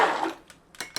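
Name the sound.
spatula scraping flour batter in a bowl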